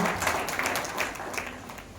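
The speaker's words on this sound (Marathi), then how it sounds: "तर रमेशसाठी खूप जोरदार टाळ्या करा" Audience applause at a farmers' gathering, a short burst of clapping that fades over two seconds, with a faint voice underneath.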